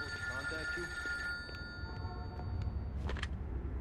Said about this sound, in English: But it wanted me to call Michael, so I'm going over to his phone and get my phone.